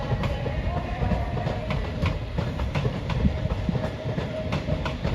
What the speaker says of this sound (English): There goes some S-Stock to Upminster on a District Line service.